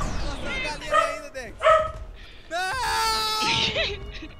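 Several dogs bark and yelp in bursts, the yips and whines fairly close and loud, with raised human voices talking over them.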